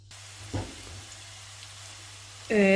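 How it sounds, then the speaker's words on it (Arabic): Chopped onion dropped into hot oil to fry, giving a steady low sizzle with a brief burst of crackle as it goes in, and a sharp tonal kitchen noise toward the end. "الزيت كده سخن معانا حبة كبيرة من البصل مفرومة، هنضيفها مع الزيت"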